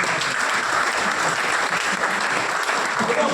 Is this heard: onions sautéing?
no